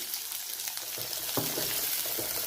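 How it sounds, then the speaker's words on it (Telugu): Garlic and onions frying in a pan, heard as a steady close crackling sizzle with a couple of soft stirring knocks, fairly loud and continuous throughout. "వెల్లుల్లిపాయలు కొంచెం ఎర్రగా వేగాలండి, పచ్చి ఉండిపోకూడదు, పచ్చి వాసన పోవాలి"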